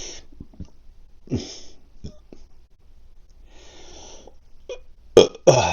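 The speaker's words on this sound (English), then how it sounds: "That's also a side effect, the burping." Several burps, a side effect of Mounjaro injections, come from a nearby person in a quiet room between soft breaths, ending in two louder, sharper bursts.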